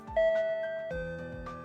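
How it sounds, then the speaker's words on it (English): Doorbell chime from the visual novel game 9-Nine, two clear electronic ding-dong tones in succession over a soft melodic game soundtrack, clean and close. "the doorbell rings"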